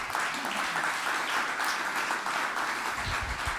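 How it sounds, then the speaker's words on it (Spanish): A church congregation breaks into strong, sustained applause, a dense wash of many hands clapping throughout, with a low rumble near the end. "Den un fuerte aplauso a su Dios."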